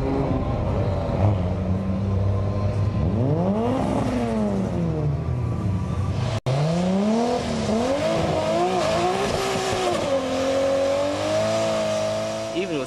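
A 1971 Nissan GTR and other street cars race in a drag event at T.I. Circuit, loud engines revving and climbing through gears with rising and falling whines, a brief cut midway, and voices talking over the roar.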